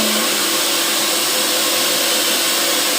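A hair dryer blows steadily on hair extensions to melt the bonds, a loud, even, close-up whoosh of airflow that runs unbroken for the full length.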